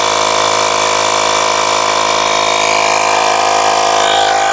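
An Agaro electric tyre inflator pumps air into a motorcycle tyre, giving a loud, steady mechanical drone with a constant buzzing hum and no breaks, running alone without speech.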